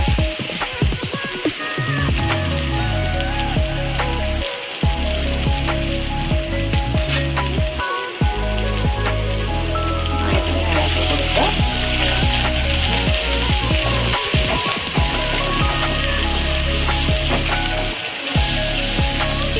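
Mustard seeds crackle and sizzle in hot oil, tempering a banana stem buttermilk curry, a loud dense frying hiss with sharp pops and a few scraping stirs, no talking.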